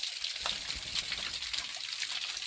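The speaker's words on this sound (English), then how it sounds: "now we are under the fall" Standing right under a waterfall brings a steady, hissing rush of falling and splashing water, continuous and fairly faint, with no voices.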